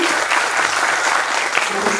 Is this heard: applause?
yes